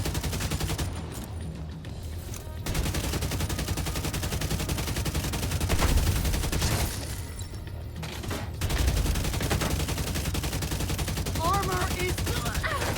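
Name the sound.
gunfire in the video game The Division 2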